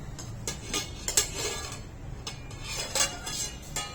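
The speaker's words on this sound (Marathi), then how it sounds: "आता आपण झाकण काढून बघूया" A few metallic clinks and scrapes as a lid is lifted off a cooking pot of sweetened rice, close by, with a faint hiss between the knocks.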